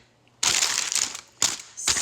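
Parchment paper crinkles and crackles loudly up close as a ball of bread dough is set into it beside a hot cast-iron pot, in three bursts separated by short pauses.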